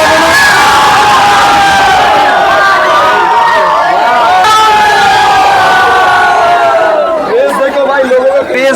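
A dense, loud crowd packs the platform at Mandar Hill station to see the new Howrah–Bhagalpur Vande Bharat train, with continuous shouting, cheering, whoops and chatter, including children's voices, throughout.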